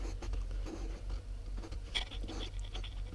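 A marker scratches and squeaks while writing on a part removed from the front end of a Volkswagen New Beetle 1.9 TDI, with short strokes close by over a steady low hum and no talking.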